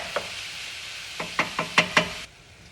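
A handful of sharp knocks of a utensil chopping ground meat in a pan, irregular then quickening, over a soft steady sizzle that stops abruptly near the end.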